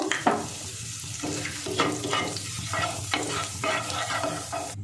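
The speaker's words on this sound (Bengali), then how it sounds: "গোটা জিরে ফোড়নে দিয়ে দেব।" Whole cumin seeds sizzling in hot white oil as a loud crackle, with repeated stirring scrapes of a spoon against the pan.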